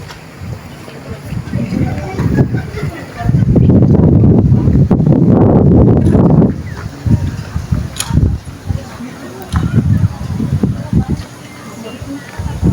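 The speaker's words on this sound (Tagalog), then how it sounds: "Mahangin." Strong wind on a hilltop in Binangonan, Rizal, blowing in loud, rumbling gusts against the microphone, with a sustained buffet in the middle. People talk intermittently between the gusts.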